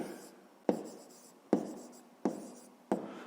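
Pen writing on paper in a maths exercise, with a scratchy stroke repeated four times at a steady pace, each one ending in a sharp tap, close and quiet.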